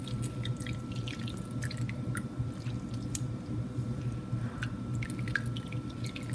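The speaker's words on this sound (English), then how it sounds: "I'm rinsing out the paneer" Fresh homemade paneer is rinsed under running water, a steady low wash of splashing and trickling with scattered small drips and squishes, continuous and fairly close, with no talking.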